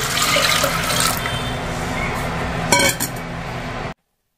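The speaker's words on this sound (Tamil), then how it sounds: "இதுல தண்ணி சேர்த்துக்கலாம்" Water pours noisily into a pot with a rushing, splashing sound, followed by a couple of metallic clinks near the end.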